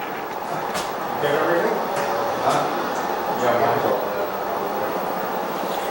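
An N scale model train rumbles steadily along its layout track with a soft mechanical whir, close by, with faint clicks over the running noise.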